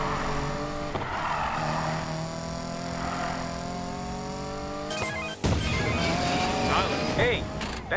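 Engine of a car driving in the Need for Speed Payback racing game, a steady revving drone with shifting pitch that turns harsher and busier near the end, heard alone without talk.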